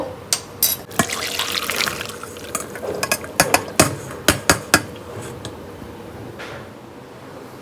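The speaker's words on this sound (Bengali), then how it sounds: "গোটা গোলমরিচ এই যে দেখুন সিদ্ধ করতে দিয়েছিলাম সিদ্ধ হয়ে গেছে এর চেয়ে বেশি সিদ্ধ দরকার নেই এবার এটা ছেঁকে নেব" Boiled whole black peppercorns and spices being strained in a kitchen, with water splashing and pouring alongside sharp clinks and knocks of a strainer and vessel, no talking.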